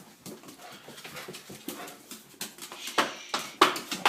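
A dog whimpers and whines in short, uneven bursts as a morning wake-up call, with some panting and shuffling, the cries growing louder and higher toward the end.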